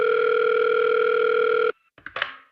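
A steady telephone dial tone plays alone for nearly two seconds, then cuts off. A click and a few short bursts of line noise follow on a recorded phone call.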